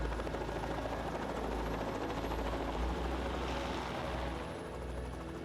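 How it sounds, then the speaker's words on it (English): A helicopter used to drive elephant herds out of corn and sorghum fields in the Mara region flies steadily nearby, its rotor producing a continuous, loud, dense chopping roar throughout, with no voices. "the Mara Elephant Project's helicopter is often used to drive herds out of corn and sorghum fields"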